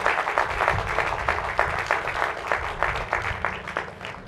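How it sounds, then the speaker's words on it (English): A crowd applauding steadily at a university commencement ceremony, a dense patter of clapping that carries on throughout at moderate volume. "give a round of applause again to the great Frank and Mary Marshall"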